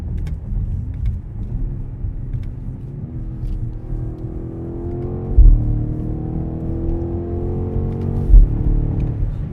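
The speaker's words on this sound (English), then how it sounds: "you floor it and it just goes, and the speed's building" 2024 BMW X5M Competition SUV under full-throttle acceleration, a steady deep engine roar with pitch climbing through the gears and brief thumps at the shifts, heard from inside the cabin.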